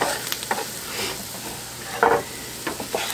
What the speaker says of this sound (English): I'm just going to stir it around just a little bit till it's fragrant.